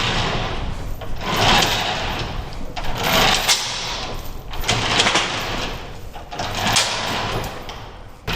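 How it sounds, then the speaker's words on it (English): Large shed doors grind and rattle open over several seconds, with broadband scraping and rumbling surges that rise and fall in a steady, mechanical texture. "I just opened the door, which means Rooster's gonna crow."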